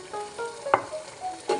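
A fish curry with freshly added chopped coriander is stirred in the pan: a soft, brief bubbling simmer broken by two sharp spoon scrapes.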